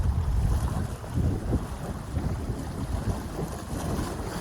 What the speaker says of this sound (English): you can definitely tell how much wind is up here.